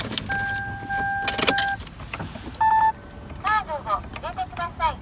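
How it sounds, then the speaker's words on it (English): A Toyota Celsior fitted with a toll reader starting up: key rattles and clicks, a series of electronic beeps and chime tones, then a synthesized voice speaking in Japanese from the car. "the car talks in Japanese when you start it"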